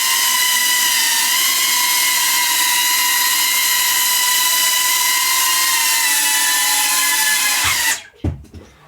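An iFlight Defender 25 drone hovers indoors, its motors giving a loud, steady high-pitched whine with stacked tonal buzzing that holds for about eight seconds and then cuts off abruptly, leaving a few soft thumps.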